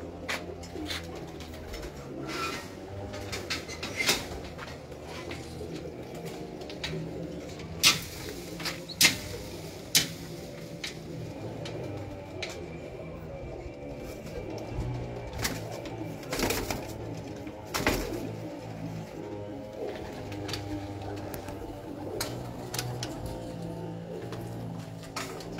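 Racing pigeons from a breeder's loft coo continuously at close range, with soft repeated calls over steady background noise and frequent sharp clicks and wing or cage knocks, with no talking throughout.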